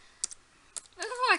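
Light taps on a computer keyboard, a few quick separate clicks followed by a short burst of fast typing, quiet and nearby.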